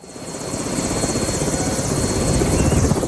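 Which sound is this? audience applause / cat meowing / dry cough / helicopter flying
helicopter flying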